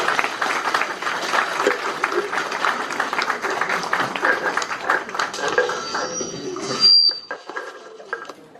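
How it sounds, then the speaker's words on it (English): An audience at a talk on architectural heritage claps for a speaker, scattered and fairly faint at first, then fading out into the quiet of the room. "let's give him a big hand of applause."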